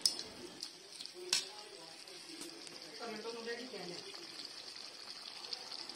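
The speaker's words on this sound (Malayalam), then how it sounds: "നമ്മളുടെ ബീഫ് ഇട്ട് നന്നായി വഴറ്റി കൊടുക്കുകയാണ്" Beef sautéing in a pan with onion, ginger, garlic and spice powders for a spicy Kerala-style beef roast gives a steady, soft sizzling hiss with a few sharp clicks, and a muffled voice is heard faintly underneath.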